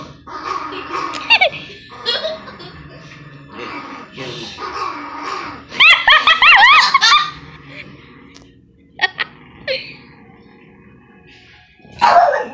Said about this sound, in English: She's still growling.